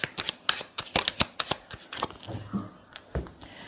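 Tarot cards being shuffled up close, a quick run of crisp riffling snaps and soft slides that slows into a few scattered taps near the end, with no voices.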